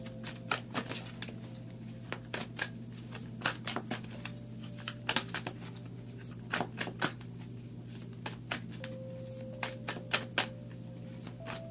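Tarot cards riffled and shuffled by hand and then drawn from the deck, a dense run of quick crisp snaps and flicks, close and steady throughout over a low constant hum.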